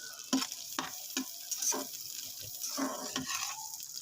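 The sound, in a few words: frying okra (bhindi) in ghee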